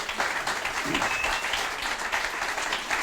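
An audience at an opening keynote clapping for the event's sponsors, a continuous crowd patter of many hands with a faint voice briefly surfacing beneath it.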